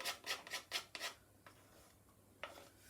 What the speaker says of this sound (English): Scrape the wooden spoon down.